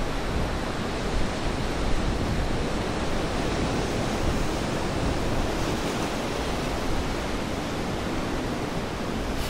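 Broad, steady sea noise from ocean waves, a dense continuous wash of surf that holds at an even level throughout with no voices.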